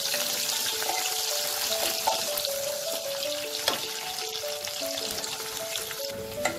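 Chopped onion sizzling in hot oil with cumin, a steady broadband frying hiss filling the whole stretch, close and fairly loud, with a few small pops and no voices.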